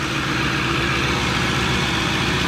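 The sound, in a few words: 1,000 HP Ford F150 engine idling on cold start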